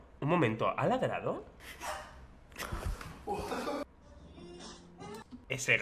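Dog barking from a video game, a few yappy barks and whimpers heard close, with someone speaking in between and over them.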